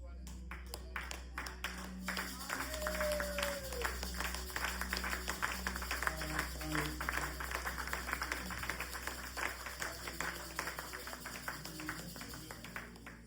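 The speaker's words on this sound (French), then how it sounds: "que les acclamations soient nourries" A church congregation at a Sunday service keeps up lively, dense clapping over a low hum, moderately faint, with people talking and calling out over it throughout.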